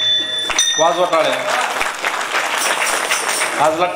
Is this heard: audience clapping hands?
yes